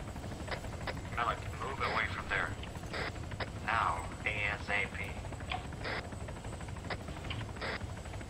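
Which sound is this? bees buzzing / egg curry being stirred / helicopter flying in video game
helicopter flying in video game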